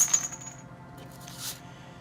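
Dice clatter and rattle during a tabletop war strategy game, a few sharp clicks at the start, a quieter settling, then another brief clatter around midway, heard close and alone.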